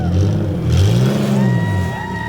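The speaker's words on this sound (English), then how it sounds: "we have the audio of the car rumbling as it drives off" A car engine rumbles loudly as the vehicle drives off, with a deep throaty tone that swells, shifts pitch as it pulls away, then settles. It is heard alone and close.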